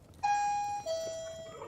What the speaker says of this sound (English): No, hold on, that's the doorbell.